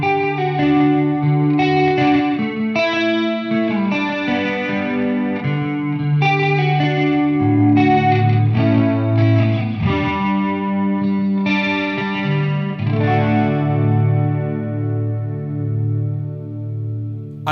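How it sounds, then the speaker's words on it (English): A guitar played through a DigiTech PDS2700 pedal set to clean delay and chorus, steady chords and notes with a shimmering wobble and repeating echoes trailing off, loud and alone without speech. "We get a nice clean delay and an unusually accommodating chorus."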